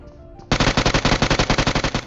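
Automatic gunfire in a mobile battle royale game bursts in after a quiet lead-in, a loud, rapid, evenly spaced string of about fifteen close shots with no pauses.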